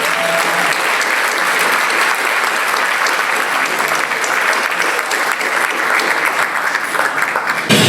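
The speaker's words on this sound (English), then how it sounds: "And that, my friends, deserves a huge round of applause." An audience at a charity gala applauds warmly, a dense, sustained wash of clapping from a large crowd that holds steady from start to finish.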